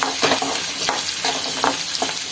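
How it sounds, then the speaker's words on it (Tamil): Onions sauté loudly in a pan for an ivy gourd chutney, with a constant close sizzle and rhythmic spatula stirs scraping through it, and no voices. "பாருங்கள் வெங்காயம் வதங்குது."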